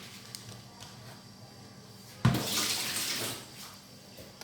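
Tap water runs for about a second into a basin while a granite stone is being cleaned, a sudden splashing burst rising out of a quiet room and then easing off.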